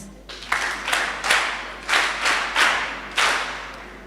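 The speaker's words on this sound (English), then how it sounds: "please give them a round of applause once more for their" Scattered, separate claps ring out at a school debate event in Lubombo, coming in uneven bursts about half a second apart, fairly close, without talk over them.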